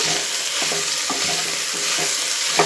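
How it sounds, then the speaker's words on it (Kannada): Drumstick leaves fry and sizzle steadily in hot oil while being stirred for a pulao, with a constant close hiss broken by soft scraping stirs and a sharper clink near the end. "ನುಗ್ಗೆ ಸೊಪ್ಪನ್ನು ಎಣ್ಣೆಯಲ್ಲಿ ಚೆನ್ನಾಗಿ ಹುರ್ಕೊಳ್ಬೇಕು"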